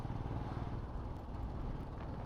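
A motorbike ridden on the road between Siliguri and Naxalbari, a steady low engine drone mixed with wind rumble, moderately loud and continuous.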